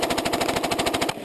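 Rapid automatic gunfire at a hostile environment training course, a loud, continuous burst of closely spaced shots for about a second before cutting off abruptly.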